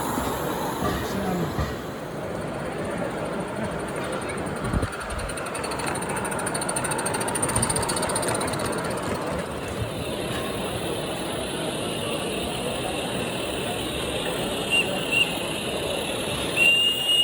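A small model Shay locomotive on a garden railway chugs and clatters steadily, with mechanical rattling and a faint high whine, a few louder knocks partway through.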